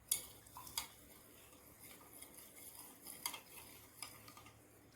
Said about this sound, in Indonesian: Kita aduk hingga gram NaCl terlarut homogen dengan air sebagai pelarutnya.